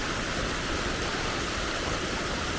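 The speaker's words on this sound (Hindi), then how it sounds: "और अभी इस रास्ते में हम ये दूसरी वाटरफॉल देख रहे हैं।" Steady broadband roar of a waterfall and a fast-flowing stream in a mountain valley near Naran, continuous and close, with no voices over it.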